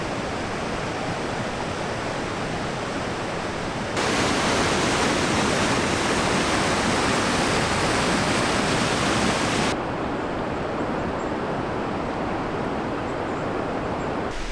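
Whitewater rapids on the Spanish River give off a continuous, dense rushing roar that swells noticeably louder for several seconds in the middle before easing back, with no voices.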